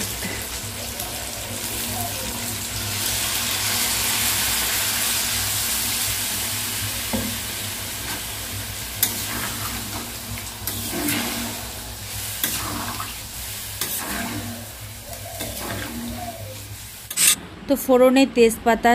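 Meat fries in a pan with bay leaf, dried chilli, whole cumin and chopped onion, making a steady sizzle with repeated stirring scrapes, and a few sharp clatters near the end.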